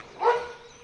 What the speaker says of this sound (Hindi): उस ये कुत्ता बोलने लग गया था, भौंकने लग गया था